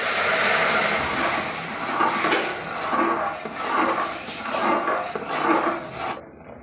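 Boiled water poured into hot roasting semolina for jaggery sheera, a steady sizzling hiss with repeated bubbling surges as more water goes in, ending abruptly.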